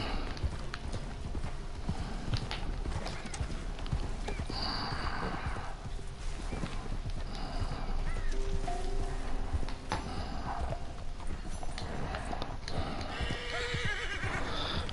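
Horse hooves clip-clopping steadily with occasional whinnies and snorts from a horse in the Red Dead Online video game, set against a constant outdoor ambient bed.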